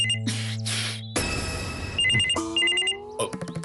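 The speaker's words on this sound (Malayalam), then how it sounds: "ഇനിയിപ്പോ ഫോൺ എടുത്തുള്ള സമയമാണ്" A telephone rings in a home, with repeated electronic bell tones in bursts that shift pitch partway through, loud and close with no voices.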